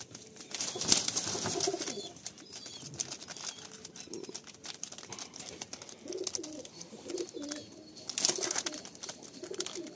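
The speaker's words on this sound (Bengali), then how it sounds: "প্রত্যেকটা পায়রা অ্যাক্টিভ হয়ে গেছে, মস্তিতে আছে" High flying tournament pigeons in Kamalgazi, Garia, coo and flutter their wings as they are let go, soft repeated calls and bursts of flapping close by over faint background noise.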